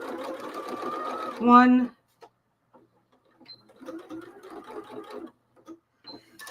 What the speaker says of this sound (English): you're just going to sew right there